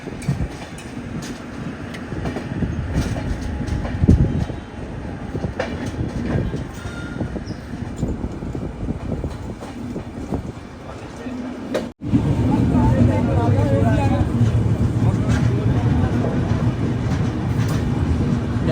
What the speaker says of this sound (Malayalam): ട്രെയിൻ ഇതാ രാജമുണ്ട്രി സ്റ്റേഷനിലേക്ക് എത്തിക്കൊണ്ടിരിക്കുകയാണ്.